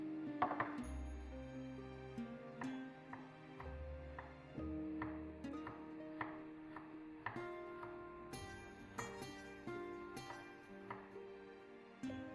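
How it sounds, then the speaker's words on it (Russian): Faint knife taps on a cutting board while garlic is chopped into pieces for sun-dried tomatoes, irregular clicks and light chops sounding quietly beneath soft background music. "А сейчас нарезаем на кусочки чеснок."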